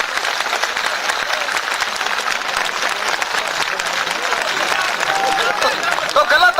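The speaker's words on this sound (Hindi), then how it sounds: "एक बार इन्हें अपनी जोरदार तालियां बजाकर भोपाल तक सूचित करिए" A large crowd at a farmers' rally near Bhopal bursts into loud, sustained applause, dense clapping and cheering filling the whole stretch without pause.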